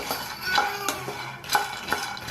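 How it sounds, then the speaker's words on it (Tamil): Horse gram dry-roasting in a pan while a utensil stirs it, with a light grainy rustle and several sharp metallic scrapes and taps against the pan, close by. "இங்கிட்டு கொள்ளு வறுத்துக்கிட்டு இருக்கேன்"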